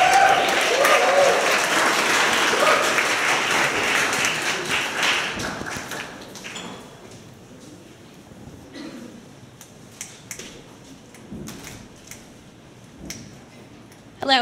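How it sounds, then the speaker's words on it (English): Applause rises from a demo day audience for a presenting team, dense clapping for about six seconds that thins into scattered claps, footsteps and faint room sounds before a voice begins. "Please give a warm round of applause to Team Score."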